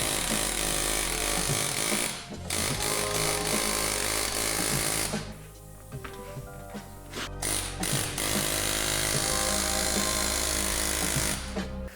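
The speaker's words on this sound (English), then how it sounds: "Hyfax is through the track window now using the air hammer." Loud, continuous air hammer hammering rattles on while removing a snowmobile hyfax slider, with a brief lull in the middle before the harsh mechanical chatter resumes.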